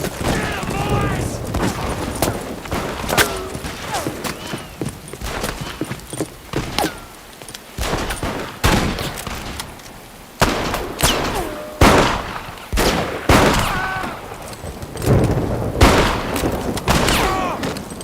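Gunfire in Red Dead Redemption, scattered loud shots cracking out between stretches of quieter sound, with voices speaking in between.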